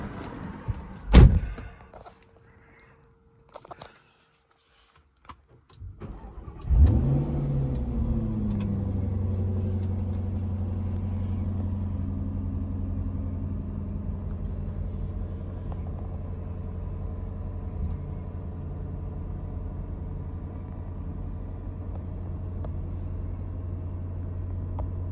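A 2011 Jaguar XKR-S supercharged V8 cranks and catches after a door thunk and brief quiet, then settles into a steady, deep, loud idle rumble that continues alone.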